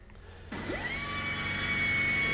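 A metalworker's cutting machine starts up abruptly and runs at a steady, loud, high-pitched whine as it recuts a folded steel sheet, with a rising tonal sweep as it spins up.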